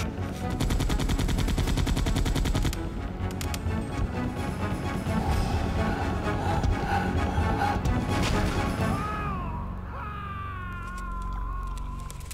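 Rapid bursts of gunfire from Resident Evil 2 crackle loud and dense for about nine seconds, with a brief crash near the middle, before giving way to quieter game sounds.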